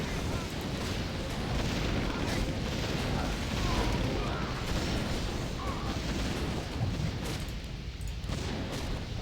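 Mortar explosions during a Warcraft III team battle with tanks, griffins and gyrocopters, a constant dense rumble of booms and combat noise, with commentators talking throughout.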